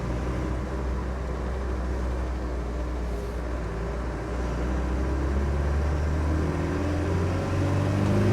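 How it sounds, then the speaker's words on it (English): A 1998 Land Rover Defender 90 Wolf with a 300Tdi diesel engine drones steadily from inside the cab while driving, a low continuous rumble that swells slightly in the second half. "Engine runs really good, really strong."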